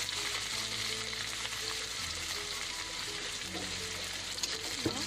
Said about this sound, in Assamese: মই পিঁয়াজটো ভালদৰে ভাজি ল'ম।